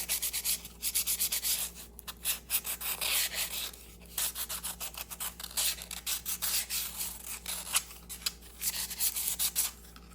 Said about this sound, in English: I will do the same thing in this 2-inch disc. Just sand it just like so